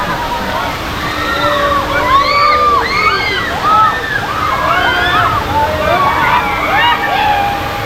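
Water splashes and sloshes onto riders of a family carousel ride at Bangalore Fun World water park, a steady, close rush of water under excited, shouting voices.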